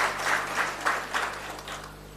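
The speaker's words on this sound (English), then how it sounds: "Can we give them a round of applause" A live audience at a panel event claps in a sustained round of applause, moderately loud and steady with a few swells, with no speech over it.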